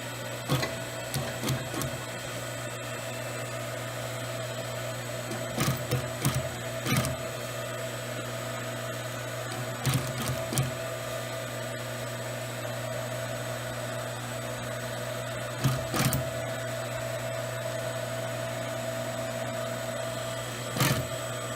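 An electric sewing machine stitches foam-backed upholstery seat bolsters together, a steady mechanical whir running throughout, with several short louder bursts of stitching at intervals.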